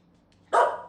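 A dog gives a single sharp bark, close and fairly loud, cutting through an otherwise quiet room after a brief silence.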